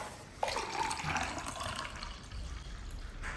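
Water poured into a little shampoo for a pH strip test, a soft, steady splashing pour that stays faint and close, with no one talking.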